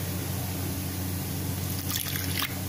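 Water pours and trickles into a thick pakora batter, a soft, close liquid sound with a few splashy bursts toward the end.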